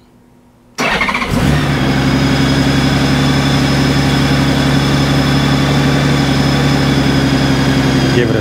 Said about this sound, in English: Crank up the bike.